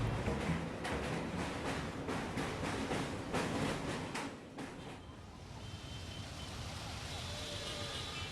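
A train running on the railway toward Kolkata in the monsoon, a loud rumbling clatter with rhythmic wheel beats that fades to a quieter, steadier rolling hum partway through.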